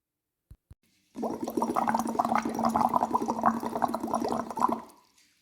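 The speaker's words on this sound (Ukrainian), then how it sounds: "коли ми будемо дути через коктейльну соломинку, водичка буде булькати та виплескуватись із стакана" Breath blown through a cocktail straw into a glass of water makes loud, close, continuous bubbling and gurgling for about four seconds, preceded by two tiny taps and fading out at the end.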